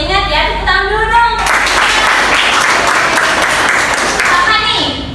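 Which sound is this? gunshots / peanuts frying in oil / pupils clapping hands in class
pupils clapping hands in class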